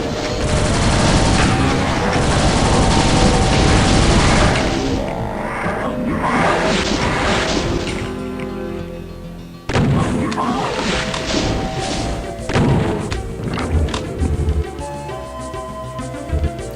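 Rocket explosions and heavy weapon fire in the Doom map Acerola-Orion, a continuous loud roar of blasts and booming impacts that briefly drops out then resumes, with no talk.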